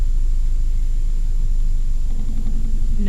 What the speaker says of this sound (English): Reversing.